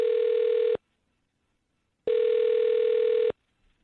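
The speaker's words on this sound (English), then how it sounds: "I'm going to dial her phone number right now" Two long steady telephone ringback tones, each about a second, separated by a pause of silence, heard clearly with no talking as a call is placed to a phone number.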